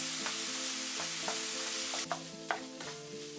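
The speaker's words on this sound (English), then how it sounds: "Add 1/4 cup of broth. Turn on low heat. Stir for another 2 minutes." Pork broth mixture simmers over low heat in a pan with a soft steady hiss, punctuated by a few light utensil taps and scrapes as it is stirred, with a faint hum running underneath.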